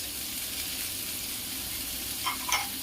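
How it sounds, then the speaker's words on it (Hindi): Onion and green chili hit hot oil with cumin and asafoetida in a pan, a steady close sizzle with a couple of brief stirring scrapes near the end. "इसमें मैं अब प्याज डाल दूंगी और हरी मिर्च"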